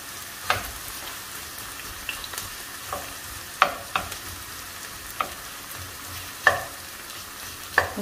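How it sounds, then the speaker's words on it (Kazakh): Finely sliced onions fry in oil in a pan for shakshuka. A steady soft sizzle runs throughout, broken by a few sharp pops and stirring clicks. "Қызарып, алтын түсті болғанша қуырып аламыз жуамды."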